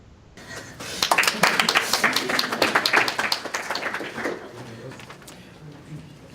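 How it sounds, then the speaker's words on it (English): Audience clapping at an academic presentation session, a moderate burst of many hands rising quickly, peaking, then thinning out over several seconds, heard somewhat distant in a room. "Can we transmit the clapping?"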